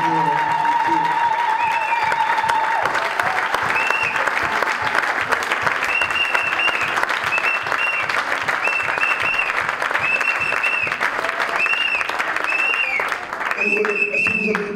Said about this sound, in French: applaudissons pour le roi des rois